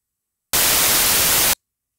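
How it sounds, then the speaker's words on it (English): Broadband white noise hisses steadily for about a second, starting and stopping abruptly, with silence on either side. "So we can hear what the white noise sounds like."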